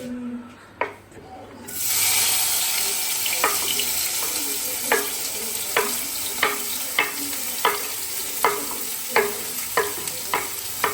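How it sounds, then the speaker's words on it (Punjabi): Tomatoes, onions and chillies hit hot oil as a tempering for masala pasta, with a loud, steady sizzle and regular clinks of a spoon stirring the pan, close up. "ਟਮਾਟਰ ਪਿਆਜ਼ ਤੇ ਮਿਰਚਾਂ ਲਓ ਜੀ ਲਾਤਾ ਜੇ ਤੜਕਾ ਇਹਦਾ"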